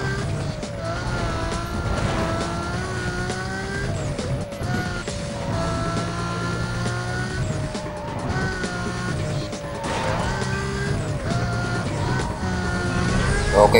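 A Lamborghini Gallardo races in Need for Speed: Most Wanted, its engine roaring steadily at high revs with shifting pitch and tire skids, loud and continuous throughout.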